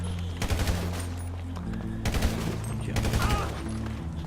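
Bursts of automatic gunfire in a GTA V Special Cargo mission, several rapid volleys over a steady game music bed, loud and close.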